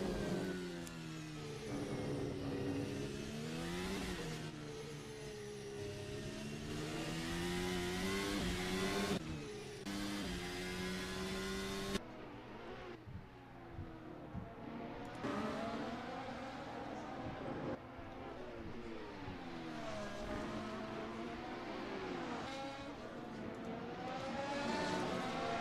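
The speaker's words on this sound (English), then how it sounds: "These two going at having a battle here as they come down the front straight" Race cars in a racing game battle down the front straight at Interlagos, engines droning and shifting pitch as they speed past, steady and fairly loud throughout with no talk.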